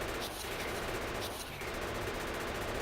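Turret gunfire from the video game Factorio, a loud continuous rattle of rapid automatic shots with two brief swells, no talking.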